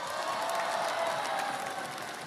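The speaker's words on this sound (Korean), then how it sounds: "박수 한번 해주세요" An audience claps at a Democratic Party rally-style concert event in South Jeolla, Korea. The applause is a steady, moderately distant wash of many hands that runs throughout without a break.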